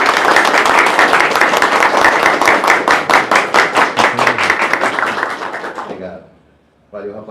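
A group claps and applauds at a military shooting-school gathering, a steady run of rhythmic clapping with voices mixed in that fades out near the end, followed by a brief burst of sound.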